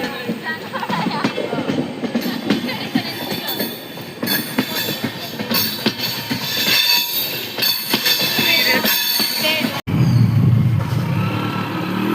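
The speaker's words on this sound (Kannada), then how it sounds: "ಟ್ರೈನ್ ಬರ್ತಾ ಉಂಟು ಗೈಸ್." A train rolls into a station during rainy holidays, its continuous loud rumble and wheel noise filling the scene, with a brief squeal and a sudden shift in tone near the end.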